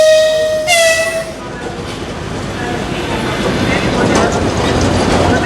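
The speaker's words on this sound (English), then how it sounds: "This is our train, ladies and gentlemen." A Trans-Siberian Railway train sits at a station platform, a short horn blast sounding first before giving way to a loud, steady rumble of the train and station noise.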